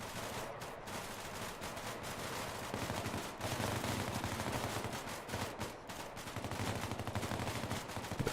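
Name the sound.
gunfire from squad shooting in a military video game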